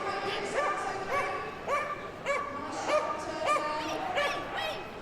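Dog barking on a Crufts agility run: a small dog gives repeated high yipping barks in a steady rhythm over crowd ambience, fairly close.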